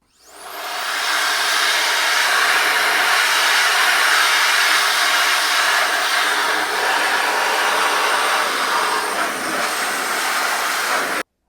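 A KICA Jetfan 2 electric blower runs steadily for about ten seconds, a loud continuous whooshing airflow with a whining motor as it blows dust out of a PC radiator, with no talking.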